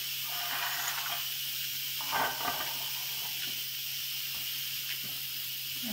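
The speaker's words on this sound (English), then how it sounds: "And the steam is coming out." Steam hisses steadily out of an Instant Pot after eight minutes of cooking broccoli soup, a constant broad airy rush at moderate level with a few faint clicks and bumps.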